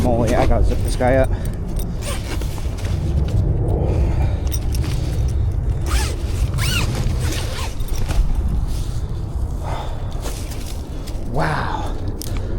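A zipper is pulled closed on a fish bag holding a freshly caught river fish of around 30 pounds, riverside in early spring, with rustling and handling noise around it.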